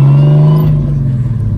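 Toyota Hilux bakkie fitted with a 2JZ engine revving loud and close, a strong steady drone that eases slightly as the throttle drops.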